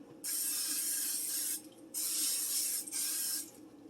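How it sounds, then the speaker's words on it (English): Three bursts of spraying hiss from an aerosol can of butter spray, the first and second longer and the last shorter, with brief quiet gaps between them. "Favorite butter spray?"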